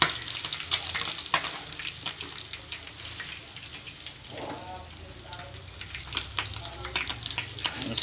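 Bisugo (threadfin bream) fish frying in hot oil gives a steady crackling sizzle with scattered pops, fairly close and continuous, with a dip partway through and a few brief voices in the background.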